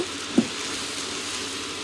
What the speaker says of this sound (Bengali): এবার চাল আমি পানি ঝরাই নিয়ে একটু ভালো মতো ভেজে নিব।